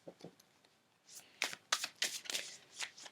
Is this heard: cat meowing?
no